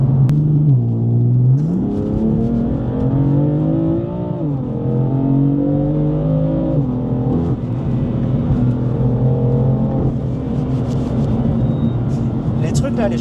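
A BMW M4 F82 engine rumbles loudly and rises in pitch as it accelerates, with a deep exhaust note and people talking over it throughout.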